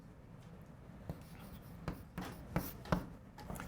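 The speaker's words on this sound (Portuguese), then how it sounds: "Agora, então deixa eu escrever assim." Writing on a board during a calculus lesson on derivatives, a series of short scraping and tapping strokes spaced irregularly, fairly close, with faint whispery speech underneath.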